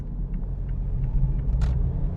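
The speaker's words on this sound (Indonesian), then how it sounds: "Jadi mobilnya lebih ngegerung, lebih nahan di RPM tinggi." A Mazda 2 car engine in sport mode holds high revs as a deep, steady rumbling drone, loud and close, with no voices over it.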